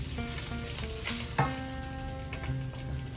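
Sausage grease sizzling steadily in a frying pan, a continuous close crackling hiss with a single sharper clatter partway through.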